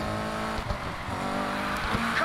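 Car engine in the Need for Speed Heat racing game revving and accelerating, a steady loud drone with harmonic whine and faint tire squeal, continuous throughout.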